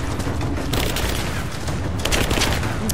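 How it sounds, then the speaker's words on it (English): Grenade explosions and heavy combat noise in Rise of the Tomb Raider, a loud continuous roar with booming bursts at the start, around the middle and near the end. "he's throwing grenades"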